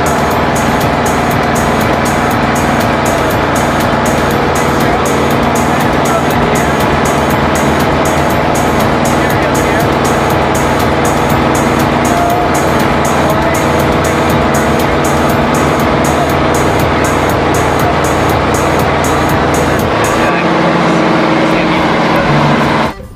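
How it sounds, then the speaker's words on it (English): Steady engine drone and road rumble from inside a moving car, loud and continuous throughout with no speech, ending abruptly. "I was trying to be impressive by doing an entire episode while driving my car"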